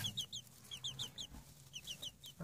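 A baby chick peeps in a warm brooder set around 33 °C, a rapid series of thin, high chirps that fall in pitch, repeated in quick clusters close by and fairly quiet.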